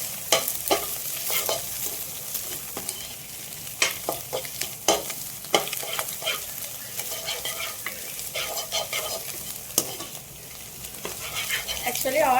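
Chopped onion and green chilli stir-frying in a pan for chicken noodles, loud close sizzling broken by frequent scraping and clattering strokes of a spatula against the pan.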